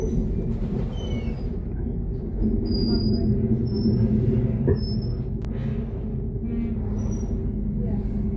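A train at a station platform on the lines toward the Sunshine Coast, Shorncliffe, Redcliffe Peninsula, Doomben and the airport gives a steady low rumble with brief high squeals and chimes. A recorded voice announcement plays over it.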